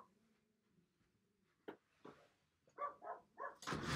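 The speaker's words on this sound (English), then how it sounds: "My dog is barking, I don't know why." A dog barks several times in a quick burst, fairly faint and somewhat distant, after a quiet stretch with low murmuring.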